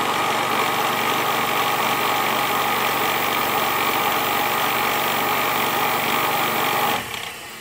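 The spindle of an Emco Compact 5 lathe converted to CNC runs while cutting metal, giving a loud, steady, dense whine and hum for about seven seconds before it abruptly drops away.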